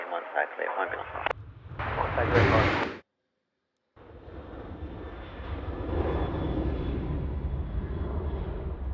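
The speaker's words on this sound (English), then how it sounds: "There's the C130 just about to overfly from the northwest going out towards the coast at the southeast" RAAF C130 military transport aircraft overflying Sydney Airport on an ANZAC Day flypast, heading from northwest to southeast. A short burst of voice and radio comes first, then a pause, then a steady, moderately loud engine drone.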